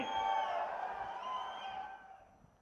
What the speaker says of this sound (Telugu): పడుంటే రైతులు గట్టిగా చప్పట్లు కూడా చెప్పండి ఎస్ అని.